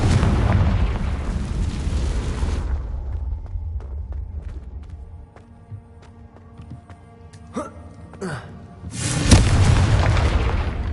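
Spell blasts in Hogwarts Legacy: a heavy explosive boom opens, followed by a quieter stretch of small pops and crackles, then another loud broadband blast near the end.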